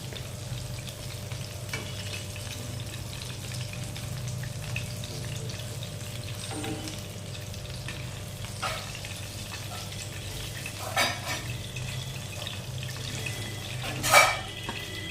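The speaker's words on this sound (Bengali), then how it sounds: "আবার এই একইভাবে বাকি পকোড়াগুলোও আমরা ভেজে নেব" Chicken pakoras in an egg and baking-soda batter deep fry in oil with a continuous bubbling sizzle at moderate volume, broken by a few faint clinks near the end.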